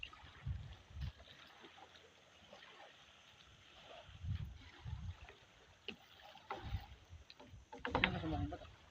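Water laps and trickles around a small fishing boat drifting along, with occasional low knocks and soft paddling sounds, quiet and close, no voices.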